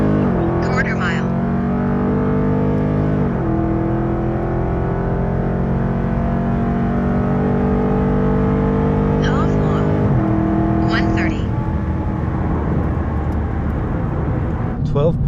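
A Dodge Charger Scat Pack accelerating hard from 60 to 130 mph, its engine note loud and close, climbing steadily through each gear with a few distinct upshifts breaking the pitch rise.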